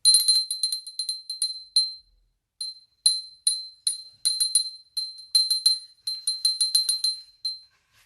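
A small bell rings repeatedly in quick clusters of bright, clear strikes, close and fairly loud, with brief pauses between the bursts and no talking.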